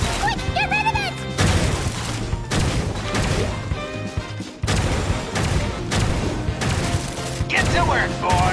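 Bomb explosions in the Genshin Impact video game, a dense run of loud booming blasts and crashing impacts over game music and sound effects, with brief voices amid the noise.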